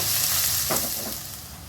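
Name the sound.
onion frying in a pan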